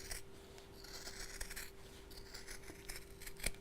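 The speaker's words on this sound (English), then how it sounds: "I'm just going to cut this curve." Scissors cut a curve in fabric for a sewn tablet sleeve, faint close snips and rustles in an irregular series, one sharper snip near the end, with no talk.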